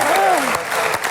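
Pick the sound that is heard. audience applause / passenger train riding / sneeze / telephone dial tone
audience applause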